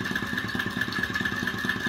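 A two-cylinder flame-eater (vacuum) model engine, gas-heated and somewhat modified, runs steadily with a quick, even pulsing chug and light mechanical clatter, close and alone.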